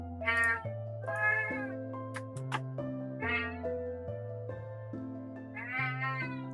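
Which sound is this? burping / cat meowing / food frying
cat meowing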